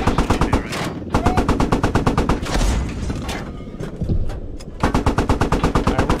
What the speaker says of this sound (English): Alright, we're firing at them in the trenches.